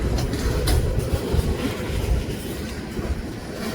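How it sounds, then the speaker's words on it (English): A freight train in Galesburg rolls past nearby, its cars giving a continuous heavy rumble with repeated clickety-clack wheel beats and faint squeals, steady throughout with no voices. "The end of this train in sight."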